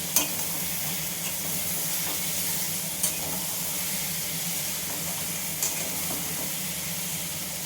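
Vegetables sautéing with sugar in a pan, a constant hissing sizzle close by with a few brief sharp clinks of stirring scattered through, no speech.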